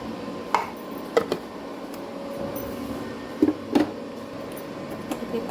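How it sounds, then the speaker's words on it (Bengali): A kadai (wok) being set down on a kitchen stove gives a few scattered metallic clanks and knocks, some in quick pairs, over a low steady background hum. "কড়াই বসিয়ে দিলাম"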